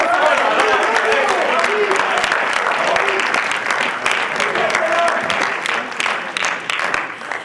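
An audience at an ESSEC eloquence contest final applauds loudly for a named speaker, dense clapping that begins at full strength and gradually thins toward the end, with some voices mixed in underneath.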